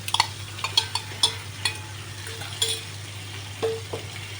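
Pointed gourd and fried onion stirred into sizzling spice paste in oil, with a spoon or spatula scraping and clinking against the pan in irregular strokes over a soft steady hum, close and clear.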